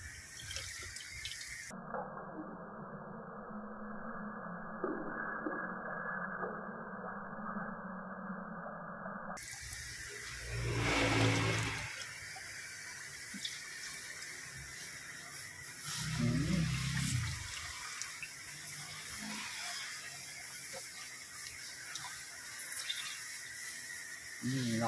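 A CO2 airgun with a leak is held underwater, producing continuous close watery churning and hissing with a few louder gurgling surges. A person's voice can be heard briefly.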